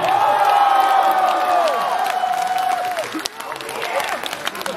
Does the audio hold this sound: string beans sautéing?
no